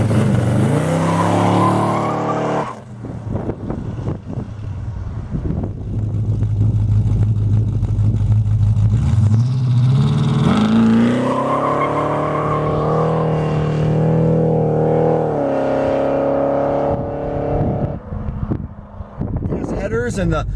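A Plymouth Duster with a 318 V8, Doug headers and a PTC 9.5-inch torque converter accelerates hard, the engine note climbing and shifting through gears over about twenty seconds, loud and steady, heard from inside with a voice talking over it.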